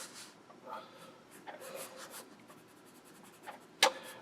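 Soft scratchy strokes of a pencil drawing a character's face on paper, in short intermittent bursts, quiet and close, with a sharp tap near the end.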